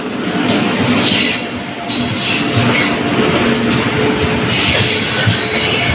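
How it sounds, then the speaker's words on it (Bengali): A passenger train pulling into a station, a loud continuous rumble of rolling cars and wheels close by, with faint crowd noise mixed underneath. "এই যে ট্রেন চলে আসলো"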